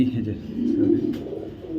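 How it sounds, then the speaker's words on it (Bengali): Low, soft racing pigeon cooing close by, a continuous throaty murmur with a brief rustle near the end. "ব্রিডার একটা কবুতর খুঁজতেছেন আফসান গ্রিজের টপ ব্রিডার"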